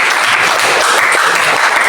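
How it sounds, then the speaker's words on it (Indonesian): A classroom full of students claps together, a loud dense burst of applause sustained evenly throughout. "Oke, tepuk tangan dulu kita semua."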